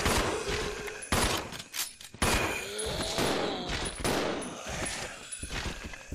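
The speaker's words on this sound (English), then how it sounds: "I can't even see him, but I'm shooting." Rapid, dense bursts of automatic gunfire from the video game Resident Evil 0, loud and nearly continuous, with brief gaps between volleys and no talk over them.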